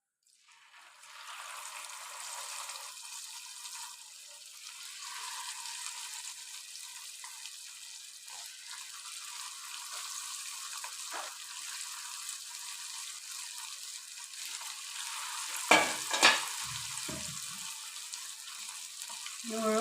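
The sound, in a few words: chicken meat frying in oil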